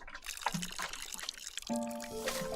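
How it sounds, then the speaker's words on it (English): Water pours from a tap in the video game Botany Manor, a steady close rush followed by a few bright chiming tones near the end. "Turn your tap on."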